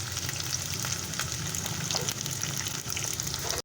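Fish sizzling steadily in hot oil in a wok for Shanghai fish, a continuous close frying crackle with faint stirring and bubbling, left alone to cook on one side.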